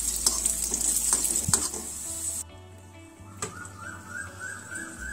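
Raisins and cashews fry in a pan for tender coconut halwa, with a bright close sizzle and quick stirring clinks that cut off abruptly, leaving a quieter hum with a faint whistling tone.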